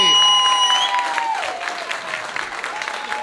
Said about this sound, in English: everyone else would just give a lovely round of applause